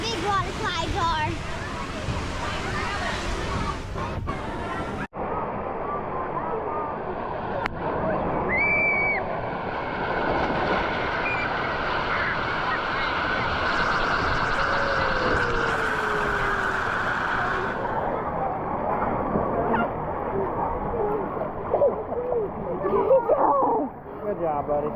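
A big pool with water slides at Disney's Blizzard Beach water park gives off a continuous rushing, splashing wash of water, loud and close, with people talking over it throughout.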